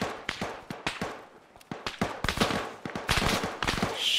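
Rapid bursts of gunfire in the military shooter Arma, on the Antistasi Chernarus map: sharp cracks arrive in irregular clusters and volleys at close-to-middle distance, building denser toward the end, with no talk over them.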